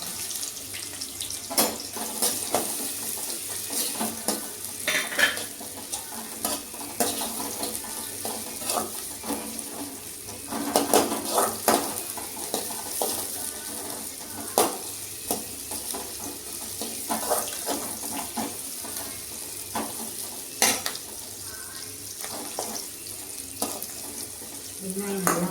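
Onions and green chillies go into a pan of spluttering fennel seeds and sauté with a steady, moderately faint sizzle and frying crackle, broken by scattered stirring clatters and louder spatters, with no talking.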